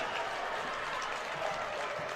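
Basketball crowd cheering and applauding after a slam dunk by a 5'9" guard, a steady dense roar of clapping and voices filling the whole moment.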